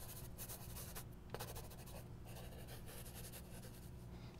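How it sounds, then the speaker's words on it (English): A pencil writes a word on a worksheet line, producing faint, close scratchy strokes in short bursts over a quiet background. "I write that word on the line"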